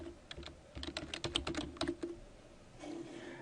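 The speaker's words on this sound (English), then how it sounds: "I'm going to go ahead and type learning objectives." Quick bursts of clicky computer keyboard typing, close and fairly quiet, with a rapid run of keystrokes followed by a short pause and a soft rustle at the end.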